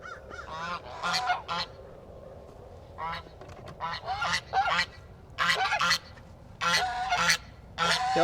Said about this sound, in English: Yep, the geese are up and at